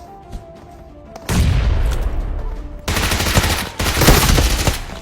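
Loud blasts and gunfire in the mobile battle game BGMI: a sudden heavy explosion from a grenade, then sustained rattling fire in two further bursts, close and dense.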